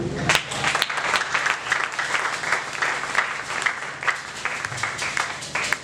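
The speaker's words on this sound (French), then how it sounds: "On applaudit le Seigneur." A church congregation claps in praise of the Lord during a sermon, a steady crowd applause of moderate loudness with some voices mixed in.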